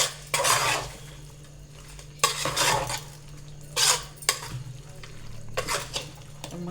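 Chicken 65 marinade being mixed with cornflour in a bowl, a few bursts of wet scraping and clinking utensil strokes separated by pauses, close and fairly quiet over a low steady hum.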